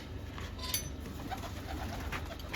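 Pigeons in a loft coo softly and faintly behind a steady low background hum.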